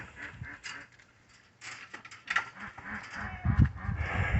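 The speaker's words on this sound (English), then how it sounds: "Ducks are hungry." Ducks quack repeatedly in short bursts, growing louder and more insistent toward the end, with faint rustling in the background.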